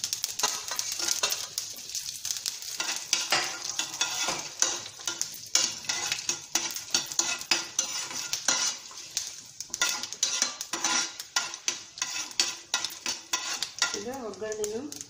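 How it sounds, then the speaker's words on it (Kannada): Dried red chilies and curry leaves fry in hot oil for a sambar tempering, giving a soft sizzle under repeated scraping and clinking of a metal spoon against the pan, close and steady. "ಇಲ್ಲಿ ಒಣಮೆಣಸು ಮತ್ತು ಕರಿಬೇವು ಹಾಕ್ಕೊಳ್ತಾ ಇದ್ದೇನೆ ಒಗ್ಗರಣೆಗೆ."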